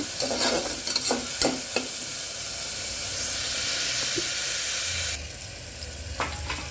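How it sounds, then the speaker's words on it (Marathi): Finely chopped onion fries in a pan with a loud, steady hiss and sizzle, broken by a few sharp stirring knocks, then settles into a quieter sizzle near the end. "एक कांदा आता बारीक कपलेला कांदा त्याच्यात टाकून घेतलेला आहे कांदा चांगला लाल होईपर्यंत परतून घ्यायचा"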